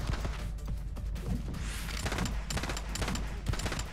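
Rapid bursts of gunfire from The Club shooter game, set in a prison cells level, crackle continuously at moderate loudness with several sharper shots standing out near the end, no voices over it.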